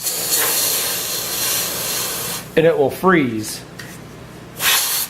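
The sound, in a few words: electronics duster can spraying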